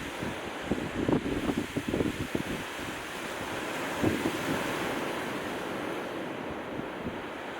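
Ocean surf breaks steadily against a beach beside jutting black lava rock on Hawaii Island, a continuous near roar with wind buffeting the microphone and a few stronger wave surges early on.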